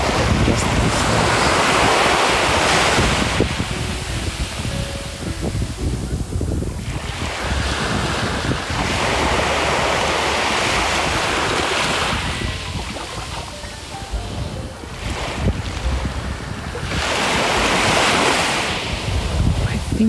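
Sea waves roll onto a sandy beach in Barcelona under a blue December sky, with steady wind buffeting the microphone; surges build and recede every few seconds, loud and close, with no talk.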